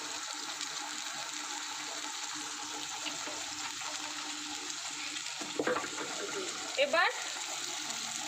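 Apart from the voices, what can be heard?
spice-rinsing water added to frying fish curry masala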